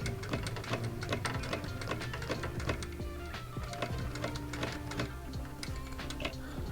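Rapid mechanical stitching chatters steadily, a dense run of ticking needle strokes over a low motor hum, continuous and close.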